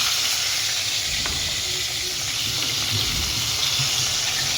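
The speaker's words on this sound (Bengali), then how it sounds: "সব মাছ ভাজা হয়ে যায়" Fish frying in oil in a wide kadai (wok), a steady broad sizzle and hiss with low bubbling underneath, continuous and close throughout.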